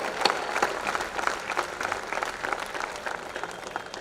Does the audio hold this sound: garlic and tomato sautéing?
no